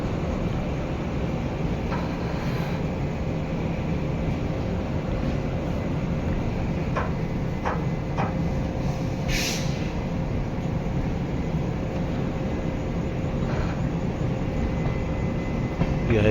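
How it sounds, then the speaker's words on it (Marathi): Tutari Express pulling out of Khed railway station on the Konkan line bound for Mumbai, a steady loud rumble of rolling wagons with occasional brake hiss and metallic clanks, continuous throughout without speech. "ही आहे तुतारी एक्सप्रेस, जी आता जाणार आहे मुंबईला."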